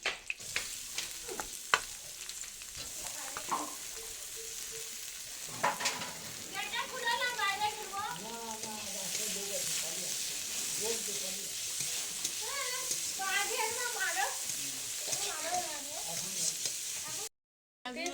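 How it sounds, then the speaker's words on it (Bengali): Chopped onion goes into a pan with garlic already fried in it, giving a continuous soft sizzling hiss with occasional stirring scrapes. Wavering, high-pitched cries break through in the background now and then. "রসুনটাকে একটু ভেজে ভেজে নিয়েছি। এবার দিয়ে দেবো পেঁয়াজ কুচি"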